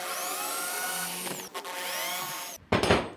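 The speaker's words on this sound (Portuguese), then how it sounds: "Agora eu vou fazer um furo com uma broca fina aqui, depois eu vou colocar o bit e nós vamos apertar isso." A power drill runs up in wood while making a small pilot hole and driving a screw for a rustic retro bedside table, whining steadily with pitch sweeps, a brief stop and restart, then a final burst of grinding close by.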